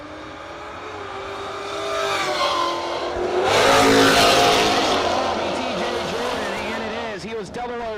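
Drag racing cars launching at a no-box event, including a Ford Mustang Fox body: loud engines build into a roaring peak, then pitch sweeps down as the cars pass and pull away.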